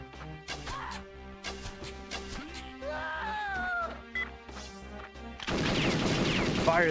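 Sharp gunshots in the video game Perfect Dark come as spaced single cracks over a steady, tonal game soundtrack, ending in a denser noisy burst near the close.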